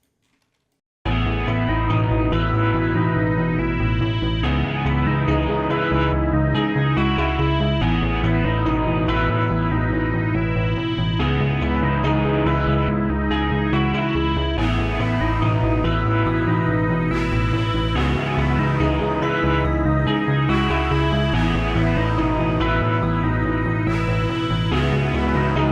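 A rendered, spacey, synth-heavy melody for a type beat plays loud and full for about twenty-five seconds, with layered repeating synth phrases and bright bursts recurring in regular sections, with no voices.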